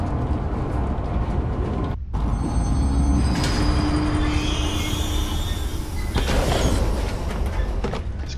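A rumbling ride on a small train in the zoo game Zoochosis, with a steady low roll, a brief drop in the middle and clanking, squealing rail noise that continues throughout at close range.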